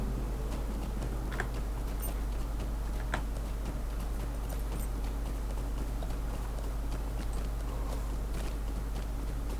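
Steady rhythmic hoofbeats of a horse ridden at a quick gait in the video game Lord of the Rings Online, clip-clopping continuously over a low droning background.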